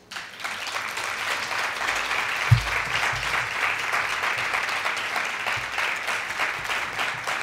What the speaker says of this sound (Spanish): os voy a pedir, para inaugurar la escuela, un aplauso a María Viniás